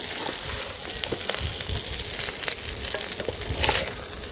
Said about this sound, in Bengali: এইখানে আমি ঘিয়ের উপর এই চালটাকে একটু ভালো করে ভেজে নেব।